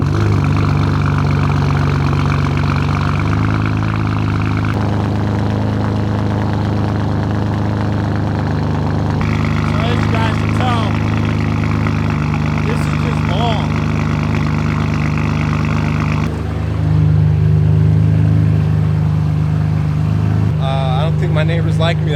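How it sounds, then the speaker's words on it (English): A tuned BMW M4 running a stock M4 GTS tune sits at a loud, steady cold-start idle. The low drone holds throughout, with a slight rise in pitch near the end, and a person talks over it. "Let me just show you about how obnoxious and how long this cold start is."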